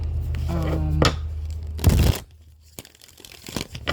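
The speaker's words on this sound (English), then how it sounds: "Let me get a few more shuffles." Tarot cards being shuffled by hand, a few quick riffling and flapping bursts with short crinkly rustles between them, close and fairly loud, alone without talk.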